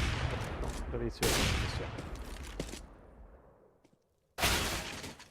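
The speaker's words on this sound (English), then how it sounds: "Some audacious wallbangs coming in" Gunfire from a Counter-Strike esports match, with loud bursts of rapid shots fired through walls, a gap of quieter decaying noise, then another sharp burst at the end, with faint commentator talk underneath.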